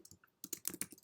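Quick bursts of computer keyboard keystrokes, close and clear, a short pause and then a fast run of several clicks with no voices.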